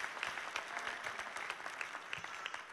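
An audience claps steadily and fairly densely, a warm wash of applause welcoming a guest speaker onto the stage at a talk event, sustained throughout without voices.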